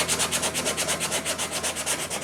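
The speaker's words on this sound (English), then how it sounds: "just give that a quick whiz with a bit of 60 grit on a block" A sanding block wrapped in 60 grit sandpaper is rubbed fast over a wooden guitar part, making quick, even back-and-forth rasping strokes, close and clear, with no voices.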